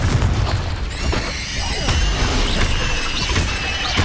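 The Confringo explosive spell goes off in the video game Hogwarts Legacy, a loud, close boom with crackling debris and a high squealing ring over continuous combat noise.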